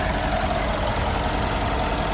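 A 2015 Mercedes-Benz G63's 5.5-liter twin-turbo V8 idles with the hood up, giving a steady, unbroken rumble that sounds close and loud throughout, with no one talking.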